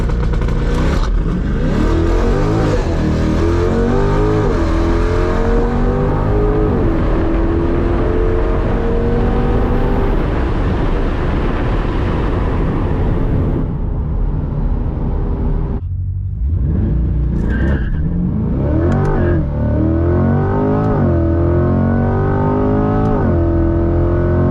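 A Chevrolet C8 Corvette launches hard, its engine revving up through rising gear pulls with a brief drop at a shift before climbing again, loud and close throughout.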